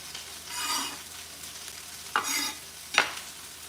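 Onions fry in a pan for tacos, a soft sizzle rising in short bursts as they are stirred, with two sharp scraping knocks of a utensil near the end.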